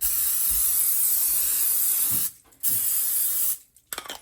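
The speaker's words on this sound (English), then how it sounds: "Then I like to spray the tops with some more oil." Two bursts of cooking oil spray hiss loudly onto food, the first long and steady, the second shorter, separated by a brief pause.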